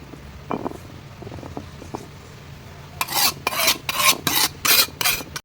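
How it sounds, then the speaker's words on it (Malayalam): Rough, rhythmic scraping strokes of items being scrubbed clean against a stone, a handful of close, gritty rubs that grow louder after a quieter stretch of faint clinks. "കല്ലിൽ അരച്ച് കഴുകി എല്ലാം വൃത്തിയാക്കി"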